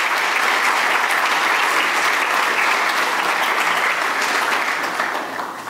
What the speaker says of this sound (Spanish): Recibimos igualmente con un fuerte aplauso a don Luis Correa Montt.